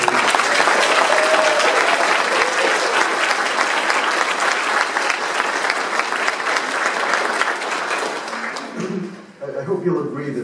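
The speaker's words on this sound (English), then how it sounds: "Could we have actually a round of applause for all 7 of the nominees?" Sustained audience applause at a science fiction book award ceremony for the nominees, a dense roar of many hands clapping for about nine seconds before fading out as the room settles.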